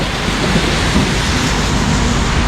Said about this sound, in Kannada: ನಾವು ಸಿಕ್ಕಾಪಟ್ಟೆ ಜೋರ್ ಬರ್ಲತ್ತ ಮಳಿ